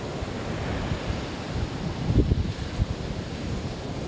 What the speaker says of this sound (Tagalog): So, nandito tayo sa tabing dagat.